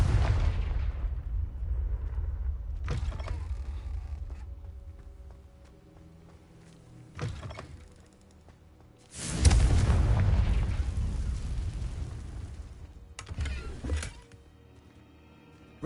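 Confringo spell explosions in the video game Hogwarts Legacy: a few short blasts, then one loud, booming burst that rumbles for several seconds, followed by a final quick crack over a quiet backdrop.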